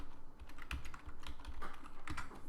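Typing commands on a computer keyboard to set up an XBee3 module with an Arduino, a close, fast run of crisp key clicks with no talk.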